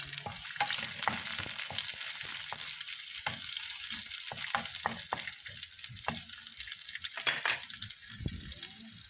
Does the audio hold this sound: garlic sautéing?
yes